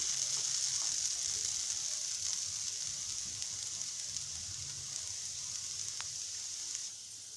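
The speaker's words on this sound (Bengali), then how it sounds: "খুন্তি দিয়ে আলুটাকে আবার একটু নেড়ে চেড়ে দিই।" Potatoes frying in a pan for a cabbage and fish head dish, a steady hissing sizzle with soft scraping as a spatula turns them, fairly quiet and continuous.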